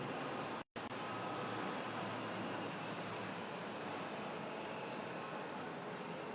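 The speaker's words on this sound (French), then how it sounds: "le Puma SA-330 avec à son bord le colonel Kadaga et son équipage, puis deux hélicoptères de type EC-135" A Puma SA-330 helicopter and two EC-135 medical helicopters fly in formation at about 400 feet and 100 knots over a presidential inauguration ceremony in Gabon, producing a steady broad rotor-and-engine roar broken only by a brief dropout.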